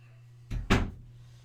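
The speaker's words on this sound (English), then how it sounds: "I'm gonna go close the door real quick" An indoor door is pulled shut with two quick thuds in close succession, the second louder, over a faint steady hum in a quiet room.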